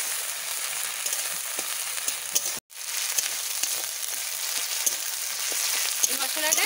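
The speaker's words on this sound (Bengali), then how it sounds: "এই মশলাটা একটু ভালো করে লাল লাল করে একটু ভেজে নিতে হবে" Ground garlic, onion and ginger masala paste frying in a pan for a fish curry, a bright steady sizzle with a brief break and occasional stirring scrapes, close and without talk.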